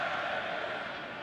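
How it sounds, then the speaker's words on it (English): A loud rugby league stadium crowd at an NRL match roars in a continuous broad wash of noise, steady and full throughout. "And the crowd, they are loud."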